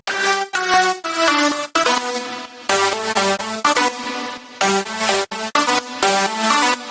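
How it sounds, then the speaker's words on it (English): Bright future house synth lead of six layered sounds playing a choppy melodic phrase in bursts with short gaps, loud and upfront, no voices. "So I want to start off by talking about the leads right here. Together they sound like this."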